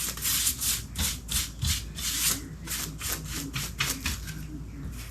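Steady repeated brush strokes rub paint across cardboard while a basic brush smooths a gradient, giving a soft rhythmic swishing scrape about twice a second, close and moderately loud.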